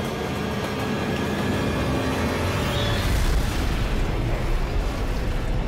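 A train thunders in with a heavy, continuous rumble that swells into a louder crashing impact partway through as it hits a nuclear flask at 100 miles per hour in a crash test, with no voices.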